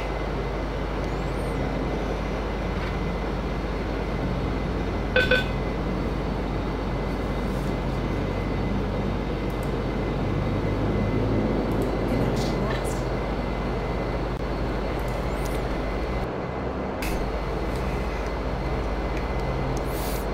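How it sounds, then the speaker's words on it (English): A Majestic Q400 turboprop's engines drone steadily inside a flight simulator, a constant low roar with a faint whine that runs throughout, with occasional brief clicks and bursts of radio chatter over it. "See how that engine runs now."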